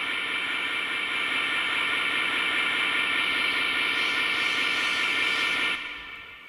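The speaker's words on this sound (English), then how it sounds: "with the effects that I added to this in Ableton, it sounds like this" A Roland TR-909 crash cymbal sample run through a Plus sustain pedal and layered with Ableton effects forms a dense, steady hissing wash, like steam or a passing train, holding loud and even before cutting off near the end.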